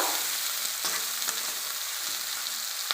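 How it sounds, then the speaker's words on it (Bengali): Soybean chunks frying in hot oil in a pan give a steady, close, bright sizzle, broken by a few clacks of a stirring utensil against the pan. "এবার সোয়াবিনগুলো আমি তেলেতে ভেজে নেব।"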